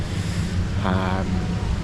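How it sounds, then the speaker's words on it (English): Steady wind buffets the microphone with a low rumble throughout at an outdoor theme park, and a brief voice rises faintly in the middle. "it's been windy all day"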